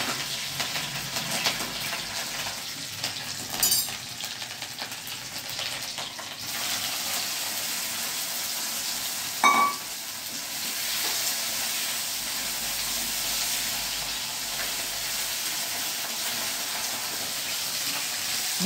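Curry leaves and dried red chillies sizzle in hot oil in a home kitchen, a steady hiss-like crackle that holds evenly from start to finish, with no talk.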